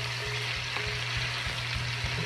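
Chicken pieces sizzling loudly in a pan just after being flipped, a dense, steady frying hiss with a low repeating hum beneath it.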